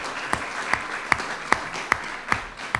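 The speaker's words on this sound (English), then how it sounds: "So we have, yes, definitely a round of applause." Audience applause for staff at a school board business meeting for Indian River County schools: a steady wash of clapping with sharp, regularly spaced louder claps cutting through about every half second.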